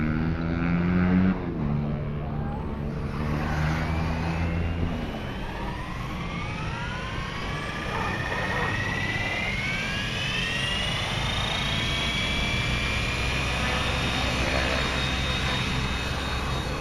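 A Copter X 600E Pro nitro RC helicopter hovers at about half throttle, its engine a loud, steady buzzing drone with shifting rotor whine, running continuously and close by throughout, with people talking faintly in the background.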